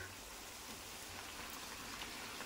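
Evening snacks fry in hot oil over a medium flame, a faint, continuous bubbling crackle like light rain, heard alone.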